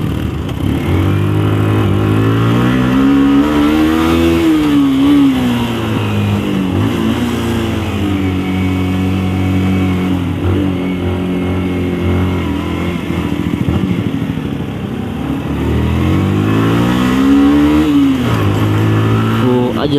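A motorcycle engine hums loudly and close, its pitch rising and falling as the rider accelerates and eases off, with a voice faintly underneath.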